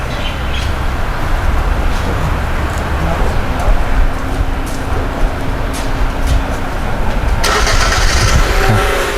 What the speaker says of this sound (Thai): สุดท้ายขอสาธิตการ สตาร์ทเครื่องยนต์จากระยะไกลครับ